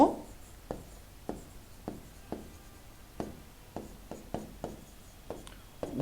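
Pen or pencil writing by hand on paper, a series of short scratchy strokes at an irregular pace, close and fairly quiet with no talking.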